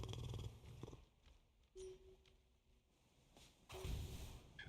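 Cat purring inside a video game, a soft low rumbling purr in short bursts with brief tonal chimes, separated by quieter gaps.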